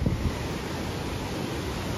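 Steady rushing floodwater roars without a break through an arroyo channel in Nogales, a dense, broadband wash of flowing current close by, with no voices.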